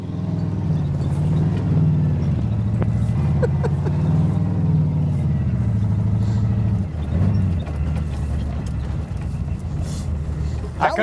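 A Pontiac Phoenix left sitting for more than 20 years runs with a low, rough engine drone that rises and falls as it is revved, and people talk over it.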